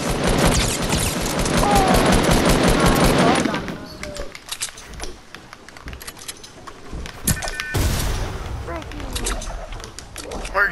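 Rapid gunfire from a Fortnite match rattles loudly in the opening seconds, then sparser shots and game noises follow while players talk over it.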